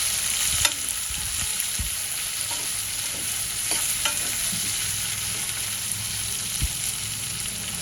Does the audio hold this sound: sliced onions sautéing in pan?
yes